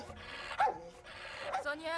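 A dog in a horror film barks and yips twice, sharp and close, over background film sound and voices.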